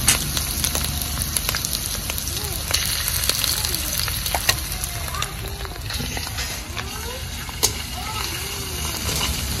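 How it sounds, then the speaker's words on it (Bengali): Garlic and ginger paste sizzle and fry in an oily pan while a Kashmiri-style masala mushroom dish is cooked, with continuous crackling spatter and occasional stirring scrapes, close and steady. "রসুন একটু নাড়িয়ে চাড়িয়ে নিলাম। এবার দিয়ে দেবো আদা বাটা।"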